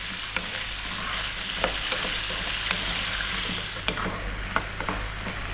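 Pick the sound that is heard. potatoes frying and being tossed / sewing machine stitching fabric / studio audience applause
potatoes frying and being tossed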